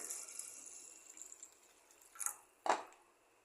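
Water pours into a pot of lentils and potato in two short splashing bursts near the end, the second louder, after a quiet, faint start.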